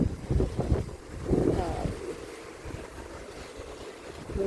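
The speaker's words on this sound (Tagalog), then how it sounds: "Ang hangin, ang lakas ng hangin." Strong wind buffets the microphone outdoors in a residential compound on a rainy, overcast day, a loud low rumbling roar with gusts, and a voice speaks briefly near the start.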